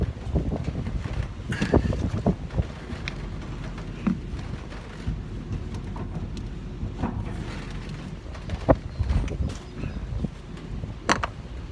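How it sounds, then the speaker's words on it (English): Steady wind gusts rumble against the microphone outdoors at a bee yard on a cool, windy day, a constant low roar with scattered knocks and clicks, no speech. "We just can't seem to shake this damn wind."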